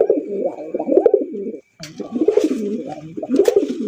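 Male pigeons at a bird market coo in repeated rolling phrases, three close, clear bursts separated by a short pause, with faint background noise.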